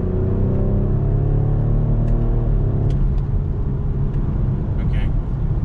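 A 2021 Ford Explorer ST engine pulls hard in fourth gear around 3,000 RPM at 40 mph, a loud steady droning roar rising in pitch, with a few light interior clicks.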